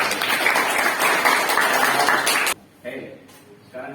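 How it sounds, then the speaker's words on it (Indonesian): A class in a teaching-practice session breaks into dense, continuous clapping for about two and a half seconds, then the noise cuts off and a voice follows faintly. "Oke, tepuk tangan buat kita."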